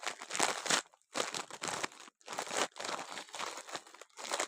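A package is torn open up close, with loud crinkling and ripping bursts in quick succession separated by brief pauses.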